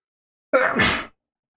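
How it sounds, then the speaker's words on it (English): A single sharp human sneeze, close and loud, bursts out alone against silence and ends within half a second. "sometimes when I talk for some reason I start sneezing. That's what's happened."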